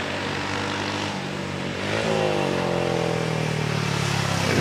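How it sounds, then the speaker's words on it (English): Mark 5 Cooper 500cc racing car with a JAP V-twin launching off the line at a hill climb, a distant buzzing engine note that rises in pitch as it pulls away, with a steady background hum. "93 Andy Renault gets off the line in his Mark 5 Cooper, again the 500cc, I would assume a Jap V-twin in the back of it"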